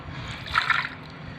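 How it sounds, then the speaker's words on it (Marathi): Half a kilo of potatoes for ragda pattice gets washed in clean water, giving a brief close swish and splash of water in the middle of a quiet moment. "स्वच्छ पाण्यानं धुवून घ्यायचं आहे आपल्याला"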